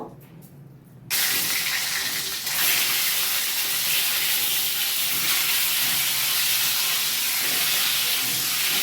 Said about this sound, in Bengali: তেল গরম করে নিয়ে তেলে দিয়ে দিচ্ছি একটু লবণ দিয়ে আমি একটু ডিমগুলো ভেজে তুলব